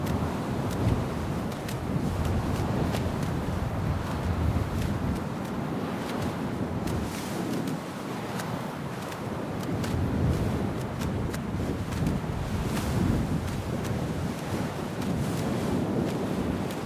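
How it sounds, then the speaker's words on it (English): A small waterfall in Sons of the Forest sends out a steady, even rush of falling water that fills the whole stretch without breaks. "Pretty little waterfall."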